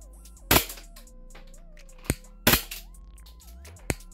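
Four sharp airsoft gas gun shots fired through a chronograph, in two pairs roughly 1.5 seconds apart, loud and close over a low steady background hum.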